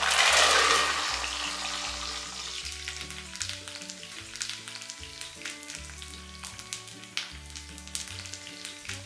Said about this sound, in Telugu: అలానే ఒక మూత సాయం తీసుకుని కరివేపాకును వేయించుతున్నాను.